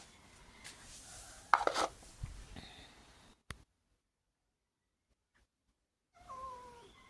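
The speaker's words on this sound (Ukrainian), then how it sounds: "А що це за співи Мія?" A visiting cat yowls at a doorstep, with a few faint knocks and rustles first, then a sharp click, a stretch of silence, and a drawn-out wavering cry at the end.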